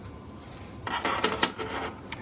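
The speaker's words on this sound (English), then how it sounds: "when you're changing the cuvette, you just unscrew these two finger screws." Finger screws being unscrewed on a MilkoScan FT3 milk analyser while changing the cuvette, a short burst of close metallic rasping and rubbing lasting under a second, with no talk.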